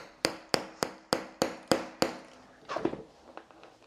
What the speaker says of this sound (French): Et ensuite je vais venir taper avec le marteau